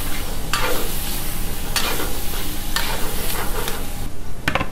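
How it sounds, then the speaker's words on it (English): Chopped tomato fries with spiced chicken on a tawa, filling the clip with a loud, dense, continuous sizzle and periodic scraping strokes of a spatula, close up with no voices. "we will put the chopped tomato. So we need to cook like a 3-4 minutes more"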